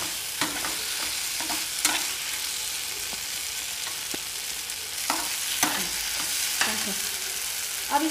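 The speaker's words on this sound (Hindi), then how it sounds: "इसमें अब भिंडी डालेंगे। इसे अच्छे से मिक्स कर लेंगे।" Okra being stirred and fried in ghee in a pan, a steady close sizzle broken by repeated scraping stirs of a spoon, with no voices.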